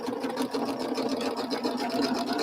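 A sewing machine stitches quilt pieces at a short stitch length, running continuously with a fast, even mechanical whir and rapid needle pulses, close and moderately loud.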